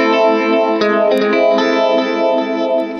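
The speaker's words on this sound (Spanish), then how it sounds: "Vamos a ver cómo se oye con el phaser." A Cuvave Cube Baby guitar pedal set to a phaser effect colors a sustained electric guitar chord, which rings loud and continuous with a gently sweeping, swirling tone and some lingering delay.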